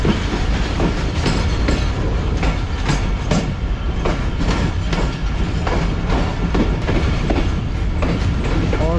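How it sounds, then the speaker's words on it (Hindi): The Rehman Baba Express rolls into Kotri Junction station, heard from on board as a continuous rumble with steady clickety-clack of wheels over rail joints. "दोस्तों 2:52 में ट्रेन हमारी अप्रोच बना रही है कोटरी जंक्शन रेलवे स्टेशन पर।"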